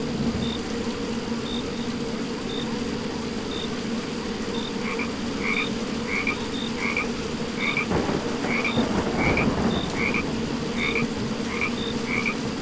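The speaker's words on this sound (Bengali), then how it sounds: "শুধু ব্যাঙের ডাকার বৃষ্টি শব্দ ছাড়া" Frogs croaking on a rainy night, a steady background of rain hiss with repeated rhythmic croaks, some near and some farther off, continuing throughout with no voices.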